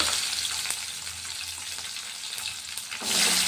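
Onions frying in a pan for a fenugreek leaf curry, a dense continuous sizzle close up with a few faint stirring taps, rising louder at the very end.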